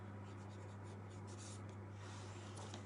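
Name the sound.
writing with a pen on paper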